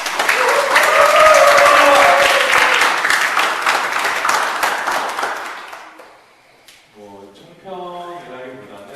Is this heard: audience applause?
yes